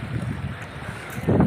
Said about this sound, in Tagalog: Lakas pa rin ng hangin, lumakas yung alon.